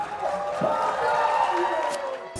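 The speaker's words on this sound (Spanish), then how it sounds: "alcen las manos y denle un fuerte aplauso" A crowd cheers and whoops at an anime fest in Cabo Rojo, Puerto Rico, a broad, fairly loud roar of voices that swells briefly and then cuts off.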